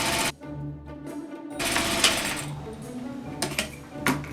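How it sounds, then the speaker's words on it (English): Sewing machine running a French seam at 3/8 inch, a close rapid mechanical whirring and clattering that starts and stops, with brief pauses and small clicks between runs. "So now I'm going to stitch at 3/8 all the way down"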